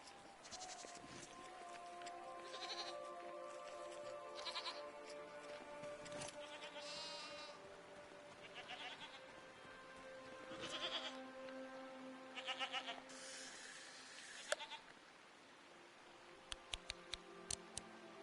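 Goats bleat repeatedly at close range, wavering calls rising over a quiet background, with a few sharp ticks and clicks near the end.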